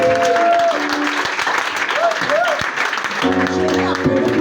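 A church congregation applauding to acclaim Jesus, steady loud clapping throughout with voices and sustained tones mixed in underneath.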